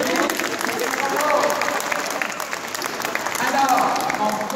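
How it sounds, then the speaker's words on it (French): A congregation at an Easter Mass with children in a cathedral breaks into lively applause, a continuous roomy patter of clapping mixed with voices and cheering throughout. "Applaudissez-lui. Bravo."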